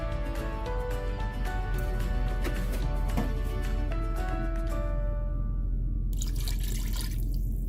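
Milk poured into a thickening cheddar macaroni and cheese sauce in a pan, a soft continuous liquid trickle and splash close by over a steady background hum.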